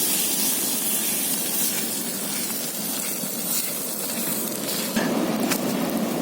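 Steady hiss and crackle of a Maggi dosa frying in oil on a hot pan just after flipping, an even close-up sizzle running throughout with no talking.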